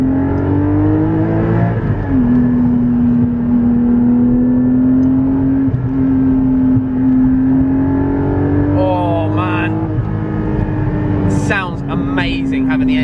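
A Porsche 718 Cayman GT4's mid-mounted engine revs loudly from inside the cabin, a strong steady drone that climbs and settles, then swells as the driver opens it up, with brief talk from occupants near the end.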